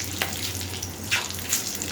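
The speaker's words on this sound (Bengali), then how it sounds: "গোটা মশলাগুলো একটু ভেজে নেব যতক্ষণ না এদের সুন্দর গন্ধ বেরিয়ে আসে।" Whole cardamom, cloves, bay leaves and cumin seeds fry in hot oil with a soft, steady sizzle, with a few faint crackles and pops in the background.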